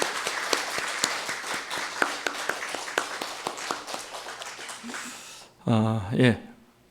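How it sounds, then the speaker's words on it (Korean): Church congregation clapping to welcome newcomers at a Sunday service, a steady rhythmic applause with distinct individual claps that thins out, followed by a brief burst of speech at the end. "그분들을 위해서 박수로 환영하고 축복하겠습니다."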